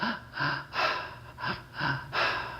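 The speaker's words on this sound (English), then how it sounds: "1 inhale in the belly, 1 inhale in the chest, and exhale" Rhythmic two-stroke breathing: paired quick inhales, first into the belly then the chest, each followed by an audible exhale, repeating in a steady close cycle of breathy gusts.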